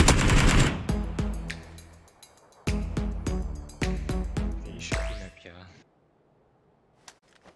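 Rapid bursts of gunfire in the PUBG battle royale game, several loud automatic volleys with sharp individual shots over about five seconds, then near silence broken by a single faint distant shot.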